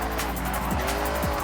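A car in Forza Horizon drifts after a handbrake initiation, its engine droning steadily under a rasping tire squeal, with brief pitch sweeps as the slide shifts.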